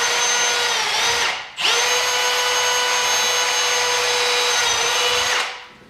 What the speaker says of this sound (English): good sharp drill bit and just nice, slow and easy with pressure